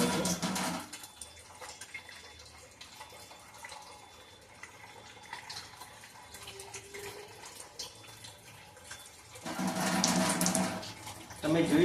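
Water pours from the tap of a Kangen ionizer machine as strong 11.5 pH water, with louder splashing bursts at the start and end. A voice talks over a quieter steady trickle in between.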